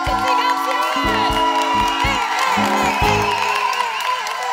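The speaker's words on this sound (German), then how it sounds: "dann machen Sie jetzt so viel Lärm, wie Sie können. Klatschen Sie ganz schön!" A studio audience cheers, whoops and claps loudly in a continuous roar of excited voices and shouts, heard close and sustained throughout, with a low rhythmic musical beat underneath.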